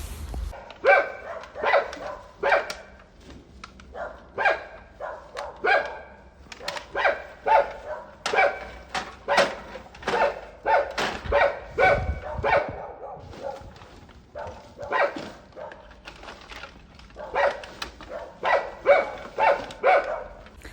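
A dog barks repeatedly out on a street, sharp barks coming in irregular bursts throughout, moderately near and loud, with no talking over them.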